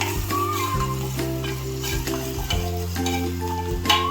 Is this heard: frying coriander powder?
yes